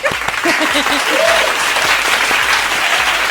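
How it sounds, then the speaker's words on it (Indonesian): Clapping on the set of a talk show about IT careers, a steady patter of hands continuing throughout, with a few voices briefly heard over it near the start. "Tepuk tangan dulu Mas ini"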